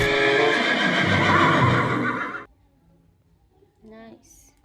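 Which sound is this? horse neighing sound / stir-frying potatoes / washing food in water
horse neighing sound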